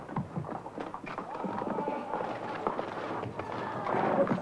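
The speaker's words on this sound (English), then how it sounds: "We drive the sheep down the trail, and we also take the horses with the sheep down the same trail." Hooves of horses and sheep being driven down a steep canyon trail below a 600-foot cliff wall, a dense patter of clopping steps close by with scattered animal sounds and some faint voices.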